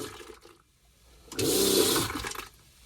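Electric marine toilet on a sailboat flushing, a loud burst of pump whir and rushing water lasting about a second after quiet moments, then tapering off.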